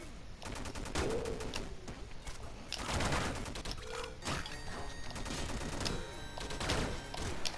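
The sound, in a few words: machine gun firing in video game Downwell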